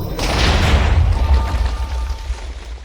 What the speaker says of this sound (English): it summons 6 energy orbs that pierce through everything and explode upon encountering obstacles